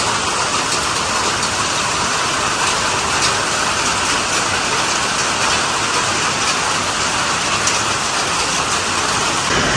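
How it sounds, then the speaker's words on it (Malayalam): Heavy monsoon rain with thunderstorm pours continuously in a dense, loud, unbroken roar with no voices. "മഴ നല്ല ശക്തമായി പെയ്യുന്നുണ്ട്"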